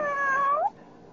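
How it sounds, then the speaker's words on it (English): A kitten named Lulu gives a single clear, close meow with a rising, bending pitch that ends abruptly, followed by quiet room tone. "Kitty, kitty, kitty. It's Lulu"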